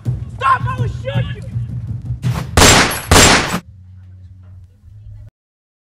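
Gunfire in a Namibian short film: after shouting voices, two loud, dense bursts of shots crack out close by in quick succession, then a low hum remains before the sound cuts out.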